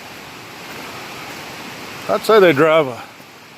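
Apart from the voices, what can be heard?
creek and small waterfall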